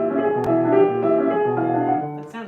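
Piano playing a Grieg piece in even straight eighth notes, a steady stream of sustained chords and melody notes, close and clear with no talking.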